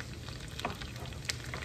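Butter melts in a pan with garlic for jerk chicken alfredo, a soft, even sizzle with a couple of faint utensil taps and no talk.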